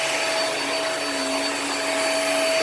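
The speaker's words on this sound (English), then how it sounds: "This Hoover's a pretty good deep cleaner" A Hoover deep cleaner vacuums a rug, a loud steady motor whine with airy rushing noise, constant and close with no talk.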